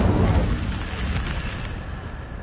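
The Incendio fire spell goes off in Hogwarts Legacy, a loud roaring whoosh of flame with a booming onset that slowly fades as a rushing burn.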